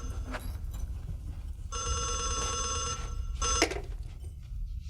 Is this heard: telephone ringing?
yes